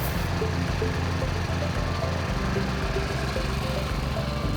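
A Toro mower runs steadily up close while trimming the collars around a bentgrass putting green, its engine drone continuous and loud throughout with a pulsing low rumble.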